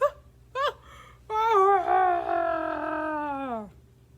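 A person's voice imitates a bear roar: two short yelps, then a long, loud, drawn-out howling roar that slides downward before cutting off, in a quiet room.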